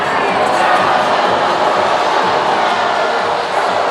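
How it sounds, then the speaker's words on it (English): A large arena crowd at a Hawaii Rainbow Warriors versus UCSB Gauchos men's volleyball match fills the space with a loud, sustained roar of displeased murmuring and jeering over a stall in play, dense and continuous throughout. "Crowd none too pleased with the stalling in the action"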